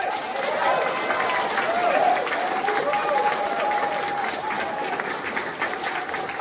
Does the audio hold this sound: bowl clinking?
no